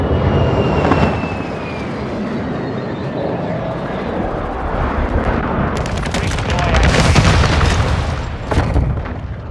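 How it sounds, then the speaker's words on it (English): Aircraft bombing run in the video game Modern Warfare 2: jet roar sweeping overhead, then a rolling series of loud booming explosions and crackling blasts that swell toward the end. "Inbound for bombing run."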